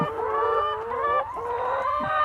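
Laying hens on a small egg farm cluck and croon close by in a continuous, warbling chorus, with overlapping calls and a rising squawk near the end.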